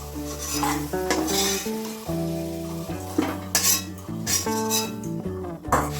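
Potatoes fried until browned in oil, stirred and scooped out of a pan with a metal utensil: repeated scraping and clinking strokes with a faint sizzle, over steady background music.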